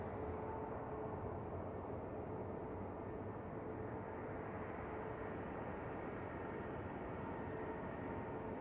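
Ryanair Boeing 737 MAX 8 at Manchester Airport, a steady, distant jet engine rumble that holds even and fairly faint throughout.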